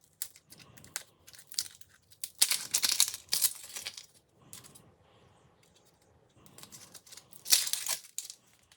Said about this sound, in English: Top and peel a medium onion.